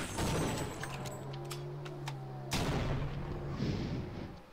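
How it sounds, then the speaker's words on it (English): Grenade launcher fire in the co-op shooter game Sven Co-op: sharp explosive thumps and booming blasts with ringing tones and rumbling decay, loud and close, a couple of distinct bursts over a few seconds. "There, I'm shooting grenades at Bonnie"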